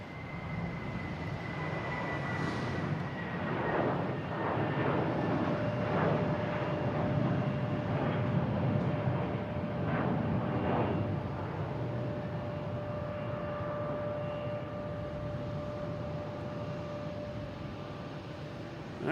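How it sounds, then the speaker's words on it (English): A JetBlue airliner taking off at Boston Logan International Airport: a broad, steady jet roar with a faint whine, heard from a distance and holding at a constant level throughout. "And we have JetBlue taking off to Tampa."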